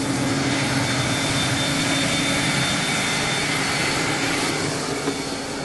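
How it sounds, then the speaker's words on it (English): The right jet engine of a Cessna Citation II starting up makes a loud, continuous roar with a high whine running through it, close and steady, easing slightly near the end, with no voices. "Let's go cross generator start the right engine."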